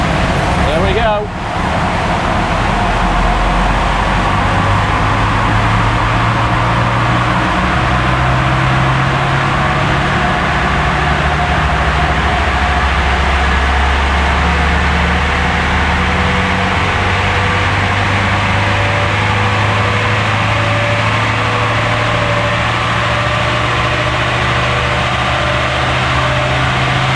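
A remapped 2.4 Puma diesel in a Land Rover Defender 90 runs on a dyno, a loud continuous engine drone whose pitch climbs in steps as revs build, filling the whole stretch close up.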